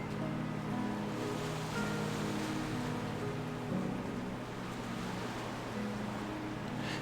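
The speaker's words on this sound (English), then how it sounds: "Sound of the waves, the sand under my feet." Ocean waves wash onto a sandy shore in World of Warcraft, a steady, dense surf wash that fills the whole moment without breaks, with no voices over it.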